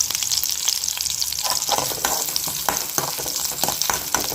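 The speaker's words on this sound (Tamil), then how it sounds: "பச்சை மிளகாயை உடைச்சி நான் சேர்த்துக்கிறேன். இதையும் சேர்த்து நல்லா வதக்கிக்கலாம்" Green chillies, broken by hand, sauté in oil in a pan while mint rice is being prepared, giving a steady, close sizzle broken by the scrape and clatter of repeated stirring.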